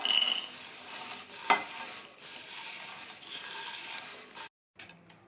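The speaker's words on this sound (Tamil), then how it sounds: "நம்ம வறுத்து வச்ச எல்லாத்தையும் இந்த மிக்சிங் பவுலில் சேர்த்துடலாம்." Fried aval (flattened rice) mixture ingredients tossed together in a mixing bowl give a steady dry rustling and crunching, with one sharper knock partway through and a brief silence near the end.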